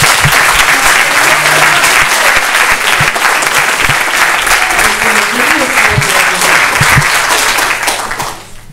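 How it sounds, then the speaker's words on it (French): An audience applauds loudly and continuously at a French stage event, a dense roar of clapping that lasts several seconds before fading out at the end. "Bon, vous les applaudir ? Allez."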